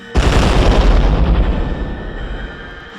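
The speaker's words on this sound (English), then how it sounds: "the bomb ignited, blowing the dream demon to shreds" A bomb blast from a horror novel scene, tearing apart a dream demon: a sudden loud, deep boom with rumbling low end that erupts after a brief pause and rolls on, slowly decaying over a few seconds.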